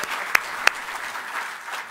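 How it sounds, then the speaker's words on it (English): Brief applause at a recycled paper and packaging company's public announcement, a thin spread of clapping with two sharp, close claps standing out near the start, quick and moderate in level. "I'll clap for Anthony."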